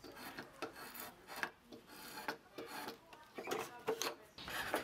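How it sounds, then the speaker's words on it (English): Drawknife shaving split timber: a series of close, rasping scrapes in an uneven rhythm of strokes, moderately quiet, with no talking. "making shapes and shaving it down with a draw knife"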